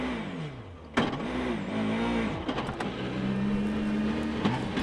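A Subaru rally car from the 2008 World Rally Championship driving off with front right suspension damage, its engine revving up sharply then holding a loud, close, rising and falling drone.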